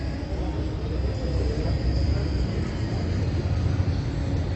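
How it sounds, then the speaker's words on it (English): Mexico City metro train in a station, a loud continuous rumble and roar of the cars running close by, steady throughout with no clear talk over it. "we got off the metro, there's the train here."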